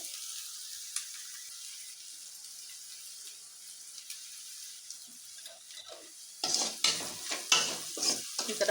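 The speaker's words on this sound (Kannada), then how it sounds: "ಈಗ ಈರುಳ್ಳಿ ಎಲ್ಲ ಚೆನ್ನಾಗಿ ಫ್ರೈ ಆಗಲಿ ಇದು" Onions frying in a pan, a faint steady sizzle at first, then louder scraping stirs with a spoon in quick uneven strokes toward the end.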